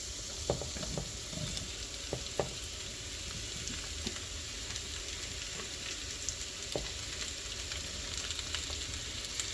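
Sausage goes into a cast iron skillet alongside potatoes and cabbage, and the pan keeps up a continuous loud sizzle broken by occasional sharp pops and scraping stirs.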